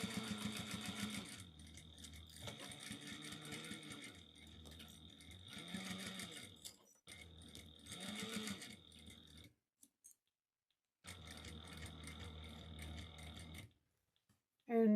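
Sewing machine stitching a fabric pot holder, a fast steady mechanical whirr in bursts with short pauses between runs, close and fairly quiet.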